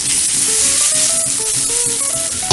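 Chicken pieces sizzle loudly in a pan with olive oil for Chicken Marsala, a dense, steady frying hiss close up, with faint tonal music underneath and no voices.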